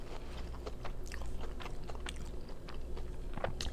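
Someone bites into a chocolate-coated churro cake pop, giving soft close crunches and chewing over a steady low room hum, with no talking.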